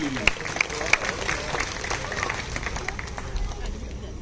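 Zoo animal show crowd at Singapore Zoo applauds a Eurasian eagle owl and its trainer, a loose scatter of clapping with a few sharp, closer claps amid crowd murmur and background voices.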